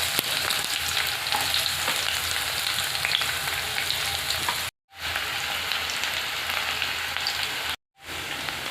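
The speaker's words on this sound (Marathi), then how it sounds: "आता कांदा छान भाजला" A large onion frying in hot oil in a pan, a steady close crackling sizzle that runs continuously, broken by two brief silent gaps.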